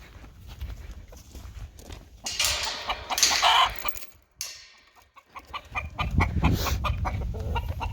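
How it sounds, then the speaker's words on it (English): Several of roughly ten surplus roosters crow around a garden on a cold January day, bursts of loud, drawn-out crowing rising and falling at middle distance with some hoof-like knocks and bird noise in between. "all the crowing you hear in the background, I have like 10 more roosters than I need"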